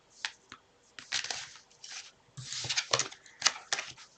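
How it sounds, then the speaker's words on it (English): Tarot cards riffled and shuffled by hand in bursts of crisp papery flutters and slaps, close and fairly quiet, with brief pauses between passes. "I'll start shuffling the cards anyway."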